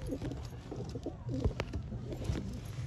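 A pigeon with yellow eyes coos beside its mate near their eggs, a series of low, soft, throaty coos repeating close by over steady background noise.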